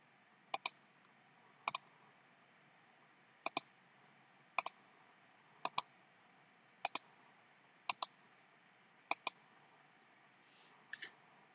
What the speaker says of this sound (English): I must click X in the right corner to close all browser windows.